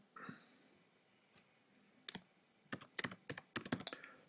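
Keys on a computer keyboard are tapped in a few quick, close clicks, a scattered pair first, then a brisk burst of typing toward the end, with no talk.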